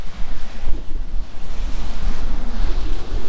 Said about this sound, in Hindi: वाटर साउंड, वाटरफॉल का काफ़ी अच्छा साउंड आ रहा है यहाँ पे पीछे।